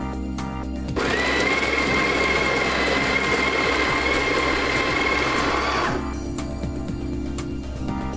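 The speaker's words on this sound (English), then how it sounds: "We're just going to grind some coffee now." A coffee grinder on a Breville Dual Boiler BES920 espresso machine grinds coffee for espresso, a loud steady whirring drone lasting about five seconds, starting and stopping sharply, with background music around it.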